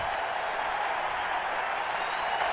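A football stadium crowd roars in a steady, dense wash of cheering and scattered clapping that stays loud and unbroken throughout, heard from within the stands during a 1993 Phoenix at Washington game.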